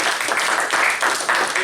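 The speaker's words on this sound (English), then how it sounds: "give yourself a big round of applause" An audience at a Toastmasters club meeting gives a short round of applause, dense, loud clapping from many hands.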